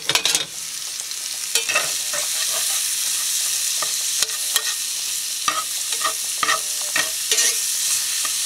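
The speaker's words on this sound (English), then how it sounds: "I'll saute this now." Mushrooms, onion, a whole head of garlic and a home-grown jalapeno sauté in a pan with a continuous close sizzle. A spatula clacks and scrapes against the pan in irregular bursts throughout.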